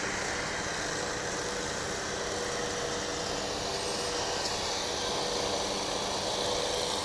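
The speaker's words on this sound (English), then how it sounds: "We've got jet engine noise competing with lawnmower activity." Jet engine noise mixes with a lawnmower at DFW International Airport, forming a steady, loud broadband roar that holds constant throughout with no clear breaks.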